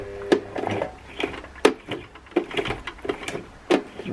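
A sewing machine stitches fabric in short runs, producing close, uneven mechanical clacks and whirring bursts with brief pauses between them, and no talk.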